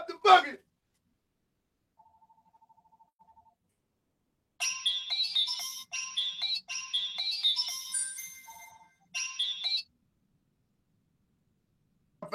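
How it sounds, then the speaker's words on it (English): A phone ringtone plays in repeated bursts of bright melodic tones, several rings in a row after a faint beeping, then stops, with brief talk at the start and end. "The phone just went. There it is."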